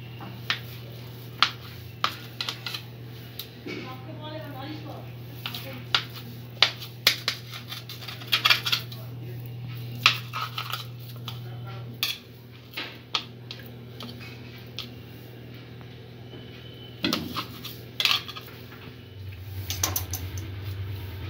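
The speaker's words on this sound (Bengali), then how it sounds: "পনিরটা একটু শেপ করে কেটে নেব।" Sharp, scattered taps and clicks ring out as a knife slices and trims paneer on a cutting surface, nearby, with a low steady hum underneath.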